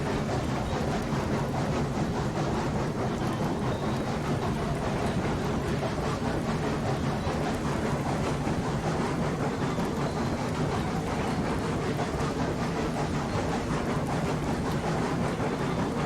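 Class 70 locomotive in RailRoads Online rolling along rails, a steady continuous rumble with dense rattling texture throughout, no voices.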